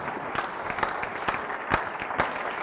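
Congregation clapping loudly at a church service, a dense, steady patter of many hands with a few sharper claps standing out, close and continuous with no talk over it.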